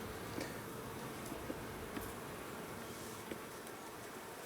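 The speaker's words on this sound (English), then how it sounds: "it's funny to hear them all start buzzing" Honey bees buzz during a hive inspection in a soft, continuous hum, with a few faint clicks and taps scattered through the quiet background.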